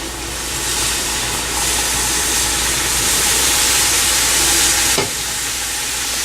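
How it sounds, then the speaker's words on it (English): Four cups of milk poured into melting sugar and semolina in a pan for rava burfi: a loud, dense, continuous hissing sizzle close up, cutting off sharply near the end. "Now I am going to add a milk. I am going to add 4 cups of milk."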